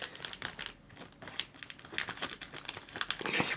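A foil WWE Slam Attax trading card pack wrapper is crinkled and twisted while someone tries to tear it open by hand, giving continuous close, crackling rustles.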